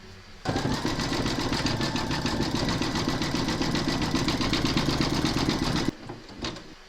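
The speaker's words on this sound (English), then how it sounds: "Load your thread colour for the satin stitching around the edge of the label into your machine, and then stitch round number 7." A loud embroidery machine satin-stitches the edge of a label on an in-the-hoop notebook cover, producing a continuous rhythmic buzz of fast needle strokes for over five seconds, then stopping, with nobody speaking.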